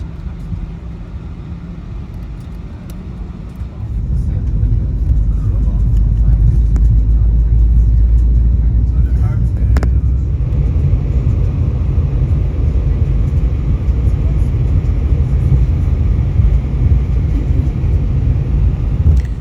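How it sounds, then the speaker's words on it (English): Jet engines rumble low and steady inside the cabin of an Aer Lingus A320 during pushback and taxi, swelling louder after a few seconds and holding a deep, continuous drone. "it is now time for the plane to begin its pushback and taxi towards the runway"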